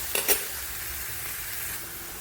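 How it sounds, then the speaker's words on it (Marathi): Onions frying in a pan hiss with a steady broadband sizzle, a couple of sharp crackles and stirring scrapes near the start, then a continuous even frying sound with no talk. "आनियन आमी फ्राय करपा दवरला"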